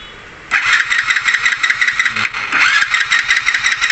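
A Hero Splendor Deluxe BS6 motorcycle engine cranks and catches after a half-second of quiet, then runs loud and close with a busy, pulsing idle that revs slightly toward the end.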